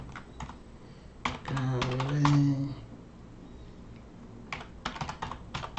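Someone types on a computer keyboard while building an Excel spreadsheet, making close, irregular clusters of clicking keystrokes. A brief voice sounds in the middle.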